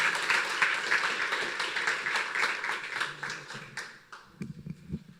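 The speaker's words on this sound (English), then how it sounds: "One more round of applause for Travis, Jimmy, and Eddie." Audience applause at the end of a conference talk on async control flow with coroutines: dense clapping that fades out after about four seconds, leaving a few scattered claps and faint murmuring.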